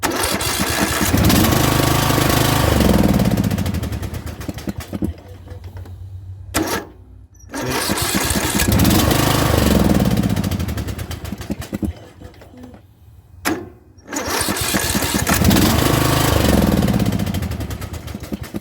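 A Troy-Bilt small engine with a compression problem after a quick valve job cranks hard in three long, loud bursts of labored turning, each stopping abruptly with a short pause between, never catching.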